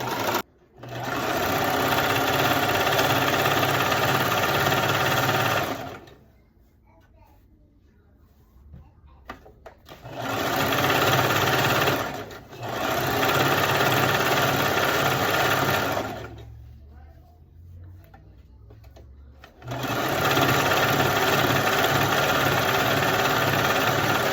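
A sewing machine runs a straight gathering stitch along tulle for ruffles, in three long loud sustained bursts separated by quieter pauses with faint handling noise.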